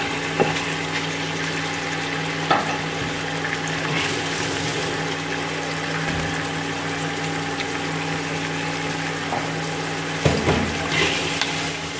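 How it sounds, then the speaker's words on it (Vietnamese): Pork belly stir-frying in cooking oil in a pan, a steady broadband sizzle close by with occasional spatula knocks and scrapes, no talking. "Mình dùng thịt ba chỉ nhá, các bạn cho lên, các bạn đảo cho nó bốc mỡ đi."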